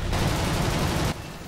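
Aircraft cannons firing in the air-combat video game War Thunder, a dense, loud sustained burst of rapid shots lasting about a second before cutting off abruptly.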